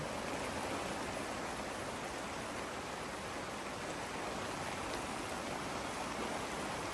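Water sprinkles onto plants inside a mini greenhouse, a steady, even hiss like light rain falling on leaves and surfaces, continuous and close, with no voices.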